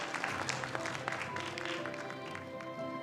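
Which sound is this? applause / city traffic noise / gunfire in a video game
applause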